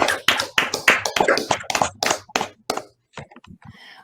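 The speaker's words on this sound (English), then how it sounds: "Let's have a round of applause for Aaron." A small crowd applauds a speaker at a tech talk session, with many sharp, dense hand claps that thin out into scattered claps and fade toward the end.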